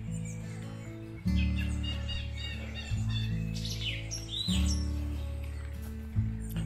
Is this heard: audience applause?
no